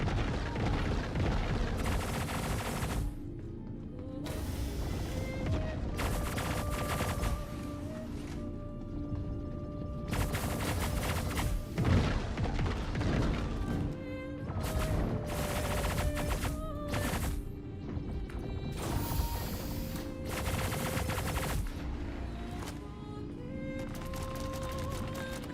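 Ship-mounted guns firing in the space game Star Citizen, a dense, loud run of rapid bursts that keeps going almost without pause over sustained tonal background sound.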